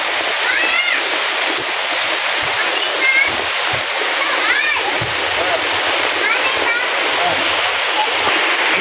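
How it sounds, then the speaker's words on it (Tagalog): Mountain stream water splashing and rushing in a steady, loud, continuous wash on a rainy typhoon morning, with faint voices and chirps over it. "yung tubig galing doon sa bundok, sa sapa"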